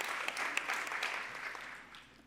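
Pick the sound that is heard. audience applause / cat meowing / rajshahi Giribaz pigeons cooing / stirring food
audience applause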